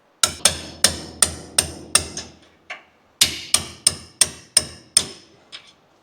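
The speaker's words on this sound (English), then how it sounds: "Just grab a hammer and a punch and knock the old bushes out." Hammer blows on a punch driving old suspension bushes out of a Hilux rear leaf spring eye, two runs of about seven sharp, evenly spaced metallic strikes each, close and loud with a short pause between.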